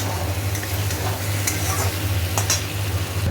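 Potatoes being stir-fried with ginger paste for aloo dum, a loud, dense sizzle running throughout, with a low steady hum beneath and a few sharp spatula scrapes against the pan.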